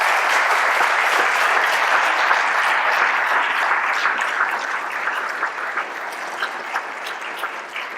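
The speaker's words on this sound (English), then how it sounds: "I think that deserves a round of applause." An audience at a police leadership graduation ceremony claps steadily in a dense, sustained round of applause that slowly thins and fades toward the end, with a few scattered claps lingering.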